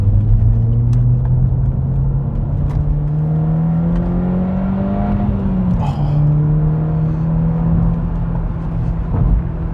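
A SEAT Leon Cupra Mk2 fitted with Eibach Sportline lowering springs drives on an open scenic road, its engine droning steadily from inside the cabin with a slow rise and dip in pitch under road rumble.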